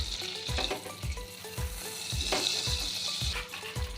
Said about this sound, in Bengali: কড়াই গরম হয়ে গেছে তাই সামান্য একটু সাদা তেল দিলাম আর এক চামচ এক চামচ কি আর একটু বেশি দু চামচ মতো বাটার দিলাম